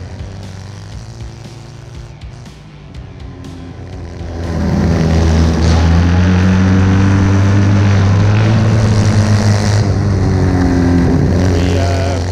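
A 1920s Indian Scout motorcycle engine idles, then revs up loudly and holds a steady, throaty roar, close by, at a Wall of Death.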